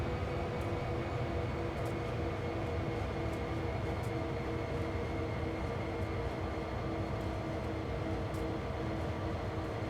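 A diesel train engine idles in Train Sim World 2 on the Cane Creek line, a steady, dense low rumble with a faint hum on top, continuous and unchanging throughout.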